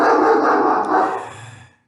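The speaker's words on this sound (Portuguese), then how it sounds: "Parece que a cachorra protestou." A dog barks once, loud and close, into a drawn-out howl-like cry that fades away within about two seconds. There is no talking over it.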